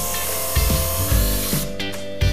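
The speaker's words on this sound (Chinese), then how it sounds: "这石头太大了，实在是不好切啊！ 再切一下" A power saw cuts into a large marble stone, with a steady grinding whine and a few heavier thuds or strains as the blade works through the oversized block, loud and close.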